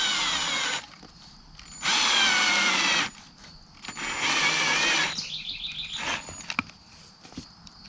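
A power drill drives screws into an outdoor backyard track build, with three loud whirring bursts separated by pauses, birds chirping nearby, and a few clicks as the last screw seats.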